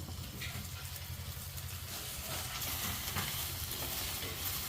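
Okra (ladies finger) fries in oil while being stirred, giving a quiet continuous sizzle with light scraping, set over a low steady hum, with no talking.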